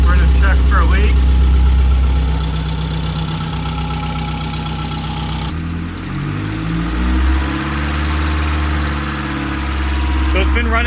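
A Saab 900 Turbo with a freshly rebuilt engine idles steadily up close, a low continuous drone that shifts and swells slightly partway through as the revs change, with people talking faintly over it.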